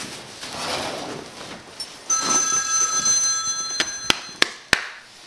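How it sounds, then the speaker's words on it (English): A mobile phone rings nearby with a bright, steady electronic tone for a couple of seconds beside someone asleep, followed by a few sharp taps or clicks. "That's your phone. Get up."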